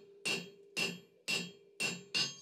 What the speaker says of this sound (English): moving the steel under the hammer rather than moving the hammer to the steel